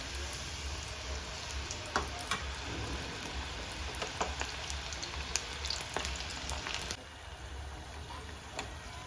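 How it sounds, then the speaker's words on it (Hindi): Tosha, a Sindhi sweet, frying slowly in medium-hot oil, a soft steady crackling sizzle with scattered faint pops, close and fairly quiet, no talk. "ये देखिए फ्रेंड्स, ये ऐसे फ्राई हो रहे हैं।"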